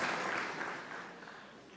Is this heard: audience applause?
yes